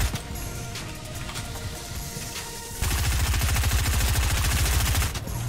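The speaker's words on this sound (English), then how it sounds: "Saucy getting hit with that pump shotgun" Pump shotgun blasts in a Fortnite-style build-fight game, a burst of sharp repeated gunfire cracks over busy game noise, louder and denser in the second half, with no talk.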